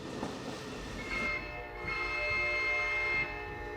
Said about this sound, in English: In the fields and mountains of coal country, trains are a part of life.